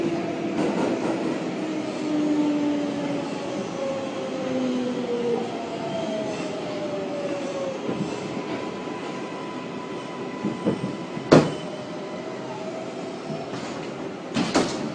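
A New York City 6 subway train bound for Brooklyn Bridge rumbles steadily along the rails between 77th and 68th Street stations, with whining, sliding tones, sharp clanks and a brief squeal near the end.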